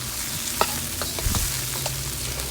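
Double cooked pork belly stir-fries in a pan, steady sizzling with scattered clacks and scrapes as the pieces are tossed and stirred, close and moderately loud, with no talking.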